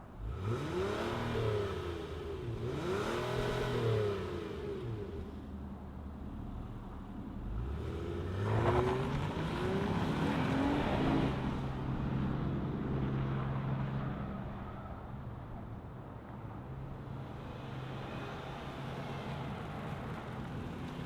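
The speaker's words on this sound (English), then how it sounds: "But let's see this minivan move. Let's fire it up." A 2025 Honda Odyssey Elite minivan engine turns over and revs in repeated swells, the note rising and falling several times, loud and close with some wind noise and no talking.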